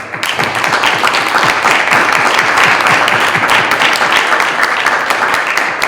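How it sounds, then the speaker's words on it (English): An audience at a school committee meeting gives a loud, continuous round of applause for Eagle Scouts. Dense clapping holds steady throughout with no letup. "I'm going to ask for another round of applause."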